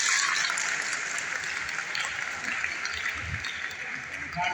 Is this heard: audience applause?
yes